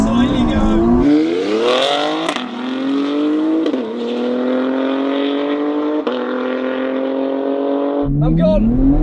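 A BMW X3M launching flat out at a drag strip, its engine note climbing steadily through long rising sweeps with brief dips at each gear change, loud and close throughout.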